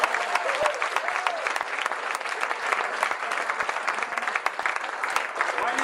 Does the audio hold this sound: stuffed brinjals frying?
no